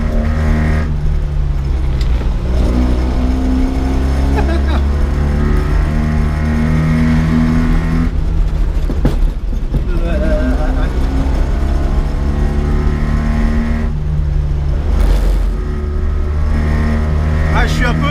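A 1980 Mitsubishi Minica engine drones steadily while driving, with a carburettor that falters and gear changes that break the hum several times, heard close and loud beneath someone talking.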